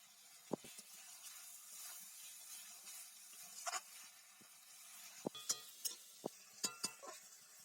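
Curry being stir-fried with a spoon in a pan at home, with a low steady sizzle broken by a series of sharp scraping and clinking strokes, several in quick succession near the end.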